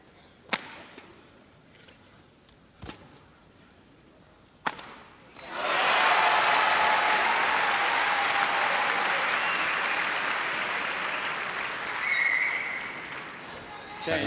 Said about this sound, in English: the crowd, I think, after being mesmerized by the clearing rallies, are now starting to come to life